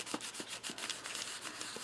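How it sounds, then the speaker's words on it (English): Short, repeated rubbing strokes on packaging for a clutch purse embellishment, soft and close, in a steady scraping rhythm with no talking. "Just give it a good rub."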